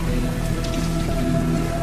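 Steady rain falls and patters on surfaces close by, a dense even hiss with soft droplet hits throughout, no voices.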